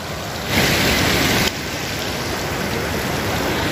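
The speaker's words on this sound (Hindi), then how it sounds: "आवाज़ सुनो पानी की" Steady, loud rushing water from a river near Manali during snowfall fills the whole stretch, a broad continuous roar like a fast stream, briefly surging louder near the start.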